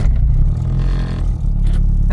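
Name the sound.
Acura Integra car engine starting up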